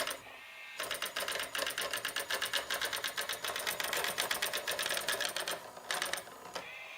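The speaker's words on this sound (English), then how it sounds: "this machine is an illustrative way of explaining how printers work" A homemade dot printer driven by linear drives, printing in fast, even mechanical rattling bursts that pause briefly twice, with a whirring motor movement near the end.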